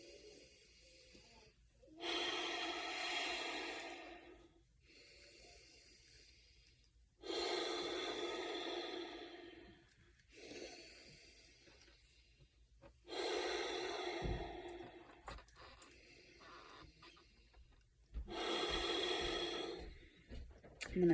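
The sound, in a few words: deep breathing during a meditation practice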